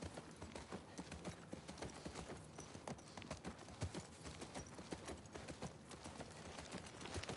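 Horse hooves clip-clop steadily in The Last of Us 2, a continuous trotting rhythm of close, distinct hoof strikes over a busy game ambience.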